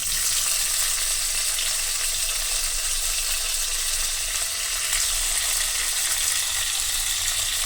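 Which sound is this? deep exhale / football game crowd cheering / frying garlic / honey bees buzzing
frying garlic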